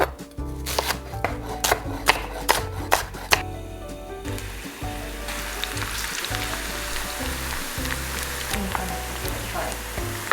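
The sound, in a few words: shallots frying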